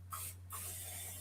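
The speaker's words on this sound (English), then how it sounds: "Got a little bit of spray." Cooking spray from a can misted onto a casserole dish for an eggs Benedict bake, two short hissing bursts followed by a longer continuous spray, close up over a steady electrical hum.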